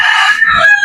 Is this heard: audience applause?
no